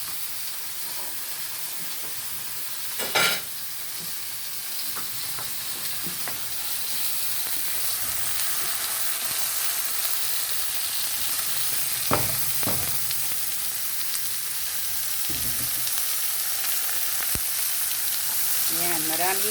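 Onion and beef steak fry in a hot pan with a steady, loud sizzle and hiss, broken by a few sharp clinks and scrapes from stirring.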